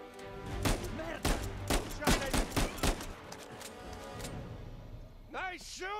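Gunfire rings out in Uncharted 4 as a string of sharp, loud shots in quick bursts, followed by voices speaking at the end.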